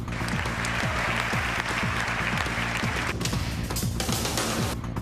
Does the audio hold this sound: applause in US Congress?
yes